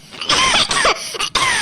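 A person coughing, a series of harsh, close coughs in quick succession, short bursts broken by brief gaps, with no speech.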